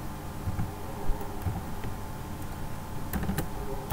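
Computer keyboard keys clicking in quick, irregular bursts as a switch configuration command is typed for VLAN setup, close and fairly quiet over a low steady hum.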